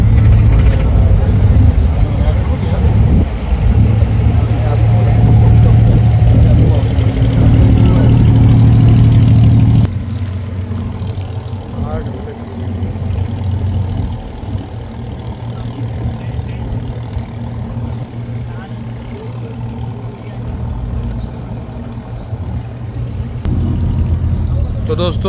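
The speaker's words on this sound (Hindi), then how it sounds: "तो फिलहाल बोट चल चुकी है हमारे" A tour boat engine drones on Dubai waters, a loud steady low rumble that drops to a rougher, quieter churn midway, with someone talking over it at times.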